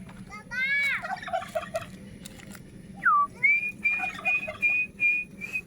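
A turkey (guajolote) gobbles in a loud rattling burst near the start, followed by several whistling and chirping calls from fowl, close by in a quiet enclosure.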